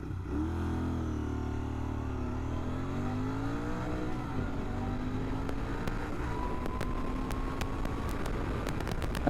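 A Royal Enfield Continental GT650 motorcycle pulls away from a standstill on an open road in first gear, its parallel-twin engine revving hard and climbing steadily in pitch. The roar is loud and continuous, with buffeting wind noise as speed builds.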